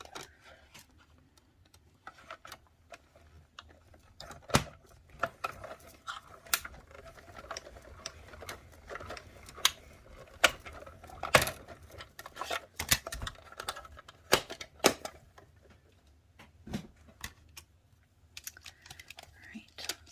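A die-cutting machine is hand-cranked to feed Christmas card stock through, giving a quiet, irregular run of small ticking and ratcheting clicks close by, with faint low voices at times.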